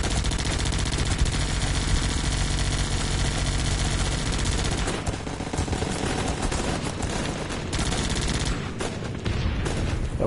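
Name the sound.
fireworks going off during a demo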